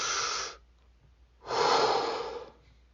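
Two long, deep breaths, each a loud airy rush lasting about a second, separated by a short pause, close and alone with no talking.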